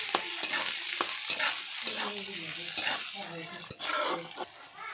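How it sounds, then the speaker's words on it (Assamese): Onion, ginger and garlic with bay leaf frying in a pan, a continuous sizzle broken by repeated scraping stirs of a spoon against the pan, close and moderately loud. "তেজপাতৰ ৰসতে এইখিনি মই লৰাই থাকিম।"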